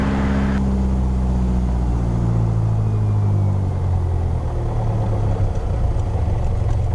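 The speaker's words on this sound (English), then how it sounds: "RPM comes down. We'll bring down idle." A Cirrus SR-20 light aircraft's piston engine rumbles loudly and continuously on the ground, its pitch audibly sinking as RPM is brought down to idle, with no talk over it.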